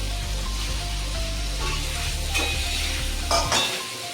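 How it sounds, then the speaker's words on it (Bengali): Paneer cubes being stir-fried with spiced potatoes for restaurant-style paneer masala, a steady close sizzle with scraping stir strokes, brief spatula clatters near the end. "পনিরগুলো দিয়ে একটু কষিয়ে নেব।"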